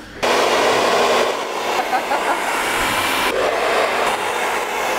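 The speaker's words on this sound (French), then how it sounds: "On va mettre un petit coup de sèche-cheveux maintenant." A hair dryer blowing on watercolour paint during a craft session, a loud steady broadband whoosh that starts abruptly and holds for several seconds with slight shifts in tone as it moves, close and alone.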